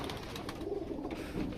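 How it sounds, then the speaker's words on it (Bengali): Breeding pigeons kept in a loft shed coo faintly in a short, low, throaty burble under a dull background hum. "সব ব্রিডিং এর কবুতর"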